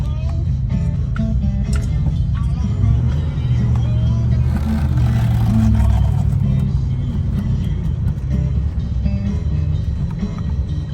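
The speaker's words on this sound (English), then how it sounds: "Downshift into third." A 1969 Chevrolet Chevelle SS engine rumbles deeply and steadily, its pitch shifting as the car downshifts into third, with someone talking over it.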